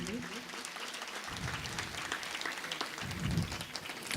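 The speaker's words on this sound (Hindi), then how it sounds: "जोरदार ताली चाहेंगे इन मंडलियों के लिए।" Audience applause for music troupes at a three-day devotional Manas song gathering in a village, a steady crowd clapping that carries on for several seconds at moderate volume from a distance.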